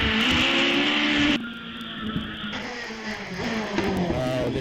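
A hillclimb race car, the GR59 with a 4-litre Judd engine, accelerates hard at Wiscombe Park, its engine loud and close, then dropping after an upshift and climbing again as it pulls away.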